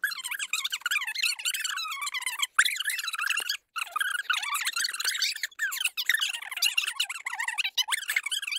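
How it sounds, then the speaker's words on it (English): Sped-up audio turns into a constant, high, chattering squeak, dense and jittery with a few brief dropouts, moderately quiet and with no low end at all. "But the squeaking of the sped up audio seems to do the job."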